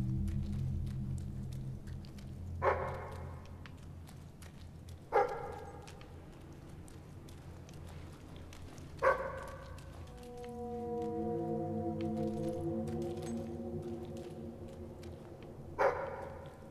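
A dog in the Fable 3 video game gives four separate single barks a few seconds apart over a low, steady game ambience, followed by a drawn-out tonal whine or whimper.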